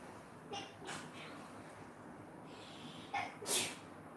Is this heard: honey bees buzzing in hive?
no